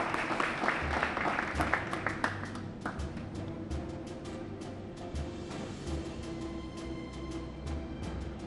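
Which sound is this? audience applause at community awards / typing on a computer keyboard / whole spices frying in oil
audience applause at community awards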